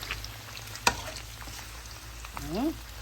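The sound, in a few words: chicharon frying in its own oil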